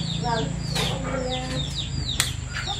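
Chickens at a rural home clucking repeatedly and close by, with soft overlapping calls over a steady background hum.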